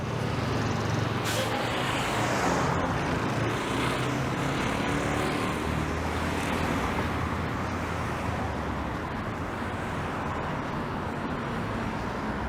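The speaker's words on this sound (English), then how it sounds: "There's quite a line of traffic." Heavy road traffic passes on a busy Toronto street, with buses and trucks in the flow. A dense, continuous roar of engines and tires stays loud and close, and a brief hiss like an air brake sounds near the start.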